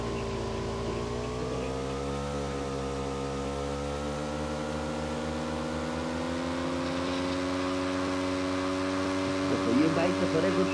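A motorbike engine in PUBG Mobile drones steadily with a smooth, even pitch that rises slightly, then ends in a brief crackle. Faint voices sit under the engine sound.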